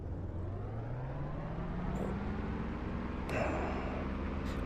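A small aircraft engine throttling up for takeoff, a low droning roar whose pitch climbs steadily over several seconds, heard from inside, with a brief sharp click partway through and no talking.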